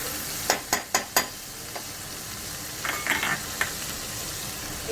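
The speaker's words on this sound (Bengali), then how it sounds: "আদা বাটা, জিরে গুঁড়োটা দিয়ে দিচ্ছি। এটাকে একটু নাড়িয়ে চাড়িয়ে" Ginger paste and cumin powder are stirred in a frying pan, with a few sharp utensil scrapes and taps against the pan over a soft, steady sizzle, close and without talk.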